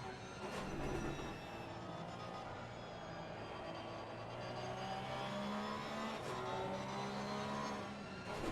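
Race car engine in Assetto Corsa Competizione at Barcelona, a steady high-revving whine with shifting pitch as the car brakes and accelerates through corners. It runs on without pause, and commentary sits faintly under it.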